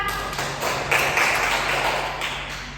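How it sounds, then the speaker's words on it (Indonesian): Scattered classroom applause for a student after her analysis of a flood news report, a patter of hand claps from a small group of pupils, moderately loud and fairly steady for a few seconds. "Tepuk tangan dulu untuk Ira"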